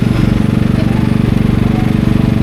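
A new farm generator engine runs at a steady idle, a loud, even mechanical throb that holds without a break from start to finish.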